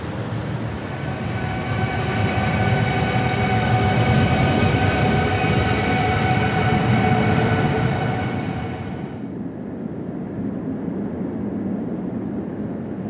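An SNCB M7 series EMU pulls out of a station heading toward Brussels city centre, a loud steady rumble and hum with wheel noise that fades after about nine seconds, no voices.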